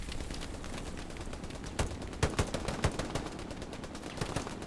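Gunfire in the WWII shooter Hell Let Loose at Stalingrad: scattered rifle and machine-gun shots crackling at mid distance over a constant battlefield rumble, with several sharp bursts clustered near the middle and end.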